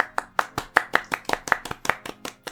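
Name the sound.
podcast hosts clapping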